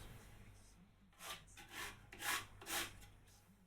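Scrubbing on an old mahogany piece with sand ground into it: four rhythmic rasping strokes, fairly quiet and close, with a steady low hum underneath.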